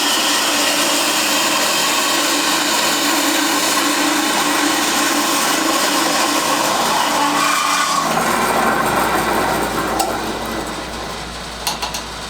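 A saw with an angle gauge cuts through an intake pipe for a K24A2-swapped EK hatch cold air intake, a loud, steady buzzing whine for about eight seconds that then tapers off into a few quieter knocks.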